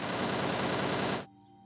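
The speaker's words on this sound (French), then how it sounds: "On dirait que je viens d'entendre un coup de feu par là." A single burst of gunfire in a Nigerian drama, loud and close rather than distant, lasting just over a second before cutting to near silence.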